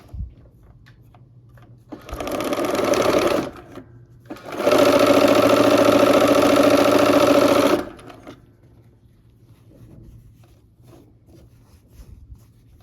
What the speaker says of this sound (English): let's go ahead and start sewing again